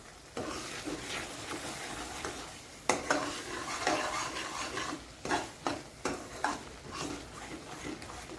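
Coriander powder and red chilli powder are stirred in a pan for Maharashtrian shev bhaji, giving a soft steady scraping with a few sharper spoon clinks against the metal toward the end.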